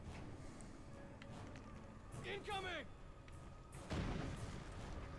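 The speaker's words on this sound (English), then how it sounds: "It's just a grenade fight now." Grenade explosions in the Resident Evil Operation Raccoon City co-op shooter, a dull boom near the end after a brief burst of game noise, set among constant in-game clutter and players talking.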